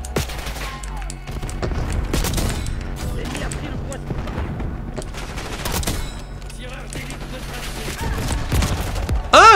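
Gunfire crackles through a Call of Duty Black Ops 6 multiplayer match, including LW3A1 sniper rifle shots, as a string of sharp, close reports amid surrounding weapon fire and mechanical clatter.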